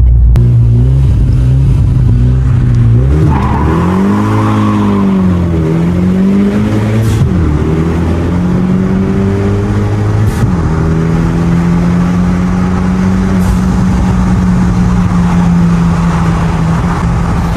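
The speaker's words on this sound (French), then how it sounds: "on va faire un petit départ arrêté" A Renault Megane 2 RS stage 2 does a standing-start launch, its engine loud and close, revving hard and then pulling up through several rising gear changes with brief dips at each shift.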